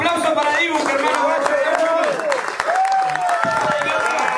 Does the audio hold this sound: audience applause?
yes